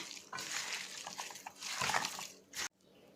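Mineral water poured over shashlik meat in marinade, a close, steady hissing pour with gurgles that stops abruptly near the end, leaving quiet room noise.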